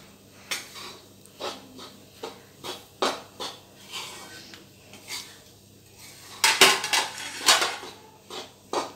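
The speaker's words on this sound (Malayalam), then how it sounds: "ഏലക്കായപ്പൊടിയും കൂടി ചേർത്തിട്ട് നല്ലോണം മിക്സ് ചെയ്യുക" Cardamom powder stirred into a sweet sugar mixture in a pan, with repeated scraping and clinking of a utensil against the pan in an uneven rhythm, close and moderately loud, quickening toward the end.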